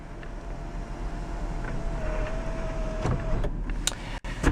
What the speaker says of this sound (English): we also do have our controls for our automatic power sliding sunroof. Go ahead and close that back.